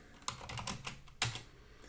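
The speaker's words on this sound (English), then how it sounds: "this is a new keyboard, so I keep mistyping things" Keys clatter on a new computer keyboard in a brief run of quick, uneven taps, with one sharper, louder keystroke near the middle, close and alone without talk.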